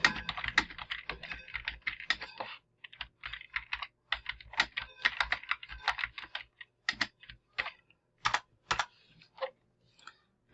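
Close computer keyboard typing in quick bursts of clattering keystrokes with short pauses between them, entering an image title for a website, with no talking.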